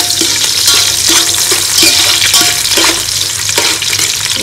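Onions fry in hot oil with cinnamon, cloves and cardamom for a chicken kuruma, a loud continuous sizzle with repeated scraping stirs of a spoon against the pan, and no voices.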